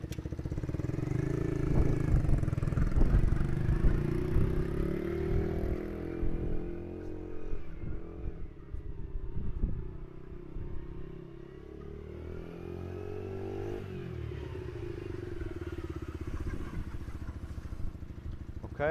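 A Junak 901 50cc moped engine runs steadily throughout a ride, a continuous buzzing drone that rises and falls in pitch as the throttle changes.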